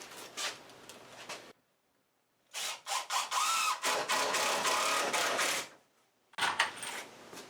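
A power drill drives 2.5-inch deck screws into a wooden box in three bursts of rising, buzzing whir, separated by brief silences, close and fairly loud.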